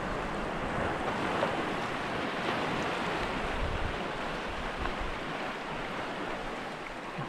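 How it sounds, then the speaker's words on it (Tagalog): Large ocean waves wash and churn around a small fishing boat out at sea, a steady loud roar of surf and wind buffeting the microphone throughout with no break. "Ang laki ng alon."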